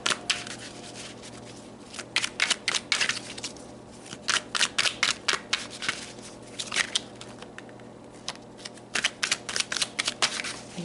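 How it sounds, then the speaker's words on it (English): Tarot cards being shuffled by hand in bursts of crisp riffling clicks, paused and resumed several times, close and fairly loud with no talking. "I just want to make sure they're super shuffled from the last looking at the karmics."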